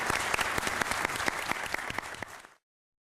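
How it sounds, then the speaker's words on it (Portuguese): A standing ovation for a justice at the close of a session of Brazil's Superior Court of Justice, dense sustained clapping from a large audience in a hall, loud and steady before cutting off abruptly. "a ministra foi aplaudida de pé por quem acompanhava a sessão"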